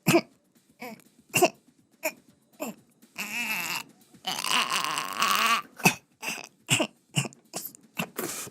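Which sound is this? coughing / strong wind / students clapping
coughing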